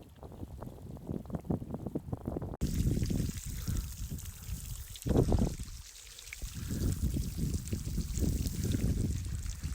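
Water pouring down in a natural hot-spring shower in Iceland, a close rushing stream with fluctuating splashing and wind-like buffeting, loud and continuous after a brief quieter start.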